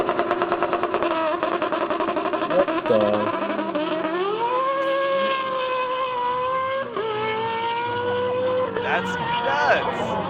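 A Ferrari 3.6-litre V8 revs repeatedly, its howling tone climbing, holding and falling back, while people talk briefly over it.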